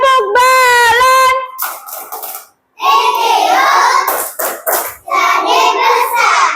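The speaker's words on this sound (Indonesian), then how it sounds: "Tepuk balon" Children chant the tepuk balon clapping song in a classroom, sung voices close and loud with hand claps woven into the rhythm, pausing briefly midway before resuming.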